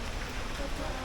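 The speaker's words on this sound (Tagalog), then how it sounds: "Ulan diri karon guys." Rain falling steadily at Lake Sebu, a dense even hiss of drops on surfaces filling the whole moment with no break.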